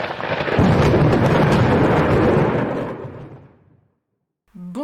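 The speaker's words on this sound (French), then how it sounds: "Une tempête arrive." Heavy thunder from an approaching storm rumbles loudly in one long rolling peal, fading away into silence before a brief sound at the end.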